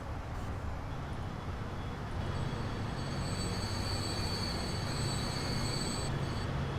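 An aging freight train on an oil route in the Transport Fever game rolls along steadily, a constant low rumble of wheels with thin high squealing tones layered above and no speech.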